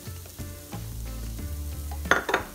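Cauliflower ijebu garri with coconut flour pan frying, a low sizzle with scraping and stirring noises and a couple of sharper clatters toward the end, close, with no voices.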